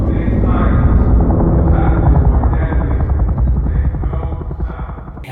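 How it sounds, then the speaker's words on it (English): Several helicopters thunder past, loud and close, their rotor chop steady and rhythmic before easing slightly toward the end. "the group hears a bunch of helicopters flying past them"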